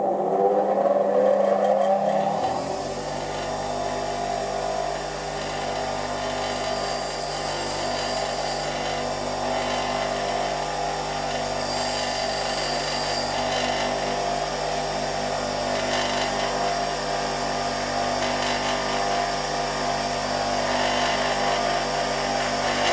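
A bench grinder sharpening a drill bit freehand spins up after a couple of seconds, then holds a loud, steady motor whine, with brief higher-pitched passages as the bit meets the wheel.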